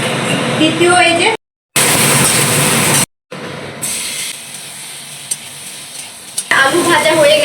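Paneer frying in a pan, with a loud, continuous sizzle and scraping stirring broken by two brief cuts to silence; a voice is briefly heard near the start.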